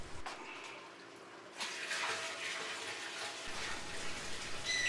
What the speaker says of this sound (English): we're now going to go ahead and put new salt water back into the tank